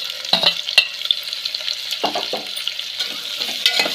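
Onions fry in a pan, giving a steady hiss of sizzling oil with a few sharp clinks and scrapes from stirring scattered throughout.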